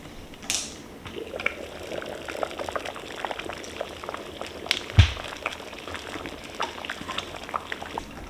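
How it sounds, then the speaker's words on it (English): Chili simmering hard in a multicooker pot, a steady bubbling and popping burble with faint mechanical clicks and one sharper knock, close and continuous. "As you can see, this is simmering away pretty hard."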